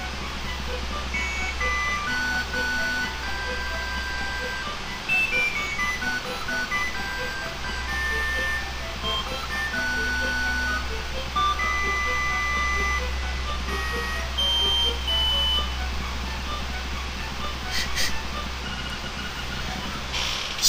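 A song from the Game Boy game Link's Awakening DX plays as a chiptune ocarina song, a continuous bright electronic melody over a steady low drone for about twenty seconds.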